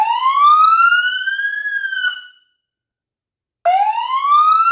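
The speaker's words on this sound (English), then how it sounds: "We'll do a wail by itself first" Emergency vehicle siren on a wail tone, loud and close, rising and falling in long sweeps, cutting out briefly before starting up again with no talk over it.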